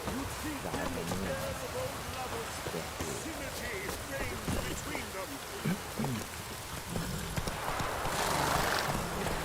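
Horse hooves clip-clopping at a steady walking pace in The Witcher 3, close and continuous under rain-like ambience, with a horse whinnying and snorting now and then and voices talking over it.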